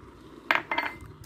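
Panelada stew ingredients, including chopped tomato, stirred in a pot, giving two short bursts of clinking and scraping against the pot, close and fairly quiet, with no talk.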